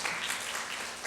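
Brief burst of church congregation applause during a Sunday worship service, a dense, steady wash of many hands clapping at moderate distance with no voices over it.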